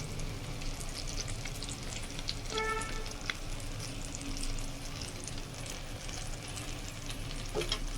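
Ground cumin, coriander and Kashmiri chilli spices stir-fried in a pan for muri ghanto, a low continuous sizzle with occasional scrapes and faint clinks of the spatula.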